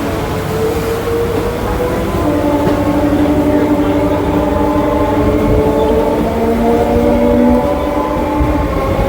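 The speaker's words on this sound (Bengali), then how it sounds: "আবার আমাদের ট্রেন সিঙ্গেল লাইনের দিকে এগোচ্ছে" Kolkata Circular Rail local train rolling along single-track line from Prinsep Ghat toward Sealdah–BBD Bag, heard from on board as a loud, steady rumble with droning tonal hum throughout.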